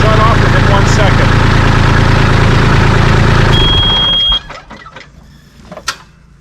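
A Kubota LX2610/LX3310 compact tractor's engine runs at a steady, loud idle with a deep rumble, then shuts off abruptly, leaving faint clicks and a near-quiet tail.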